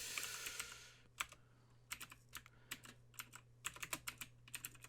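Close clicking of keys on a computer keyboard as a boot password is entered, short bursts of keystrokes in irregular rhythm with brief pauses.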